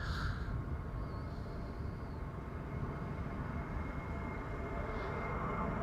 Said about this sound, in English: That's the Qatar to Doha. 777 freighter taking off from 18 left.